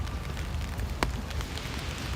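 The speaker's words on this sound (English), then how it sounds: "Right now though, I like this level of rain." Light rain falls on a Brooklyn street after midnight, a soft, steady hiss of drops with one brief sharper tap partway through, no voices.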